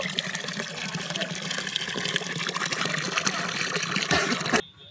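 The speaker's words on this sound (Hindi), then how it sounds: "शेर के मुंह से पानी आ रहा है" Water gushes steadily from a stone lion-head spout at Kangra Fort in Himachal Pradesh, a loud, continuous splashing stream that cuts off abruptly near the end.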